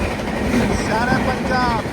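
Shan-e-Punjab Express, train 12497, rumbles past steadily and close by, with a continuous roar of rolling wagons and faint squealing wheel tones rising through the middle of the pass.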